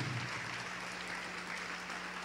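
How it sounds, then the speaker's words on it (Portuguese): A church congregation applauding in a steady wash of clapping heard from a distance, with a faint low hum beneath it and no clear voices. "Vamos aplaudir ao nome de Jesus."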